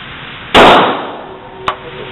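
A handgun fires a single loud, sharp report at an outdoor shooting range, followed by a brief decaying ring and a faint metallic click about a second later.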